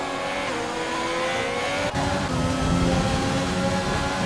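A McLaren race car in a racing video game at a round in Australia drives hard with a steady, loud engine drone. Revs and tire noise run throughout the stretch, with a brief dip near the middle.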